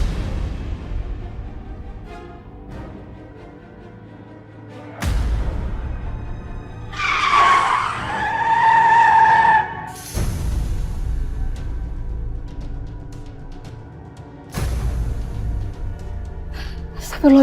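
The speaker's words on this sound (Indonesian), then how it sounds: "Mobil itu seperti mau nabrak kita, Aisyah." A car skids at night with a loud tire screech rising in a sharp burst mid-scene, set among abrupt dramatic bangs, nearly striking people in a drama scene.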